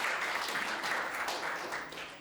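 Steady crowd applause from an audience welcoming first-time attendees at the CannaGather cannabis event in New York, a dense wash of many hands clapping at moderate distance, fading slightly toward the end.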